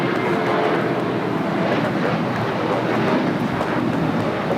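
An airliner takes off from runway 25 right at LAX, its engines making a steady broadband roar that holds loud and even throughout, with no voices over it.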